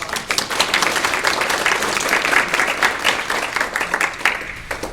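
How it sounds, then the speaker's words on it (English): A room full of people at a historical society talk claps steadily for about five seconds, a dense, even patter of many hands with no voices over it. "So please give Nick a round of applause"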